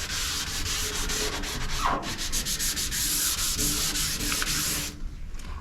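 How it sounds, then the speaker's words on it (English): Close, continuous hand sanding of a car panel rasps back and forth in quick, even strokes, loud and steady throughout. "5 minutes of sanding."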